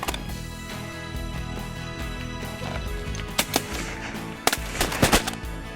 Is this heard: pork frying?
no